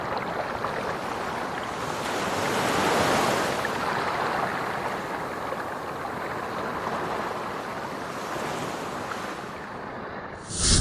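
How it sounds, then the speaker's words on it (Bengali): Sea waves roar and wash onto a beach at Kuakata, driven by gusting wind that buffets the microphone, a dense continuous surge swelling and easing with no voices. "সমুদ্রের গর্জন, বাতাসের গা দুলিয়ে দেওয়া"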